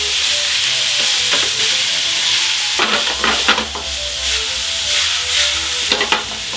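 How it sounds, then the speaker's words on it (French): Caribou meat searing in a frying pan on full heat, giving a loud, constant sizzle with a burst of sharper crackling and stirring clatter partway through, close up and with no voices. "La poêle reste feu à fond. Maintenant le caribou. Caribou dans la poêle."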